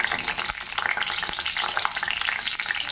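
Sliced carrot, alongside onion, ginger and chilli, fries in a pan for a pasta dish, giving a dense, steady crackling sizzle with occasional sharper pops, close and even.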